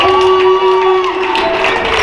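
A basketball crowd at a JV boys' high school game cheers after a made 3-pointer, a loud, sustained roar of voices with whoops, heard close and continuous.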